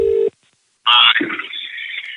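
Telephone ringing tone of an outgoing call, a short, steady electronic tone at the start that cuts off into silence, followed by a higher, brighter tonal sound that trails on to the end.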